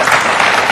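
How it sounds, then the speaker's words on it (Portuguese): Applause from a studio audience at a Portuguese television festival broadcast, a brief dense wash of clapping that fills the whole moment at steady loudness. "Palmas para ele."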